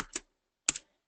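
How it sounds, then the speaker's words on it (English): Close, crisp clicks of fingers typing on a computer keyboard in two short bursts, separated by a brief pause of quiet, with no talking. "you can just start typing the name of your view to filter down the list"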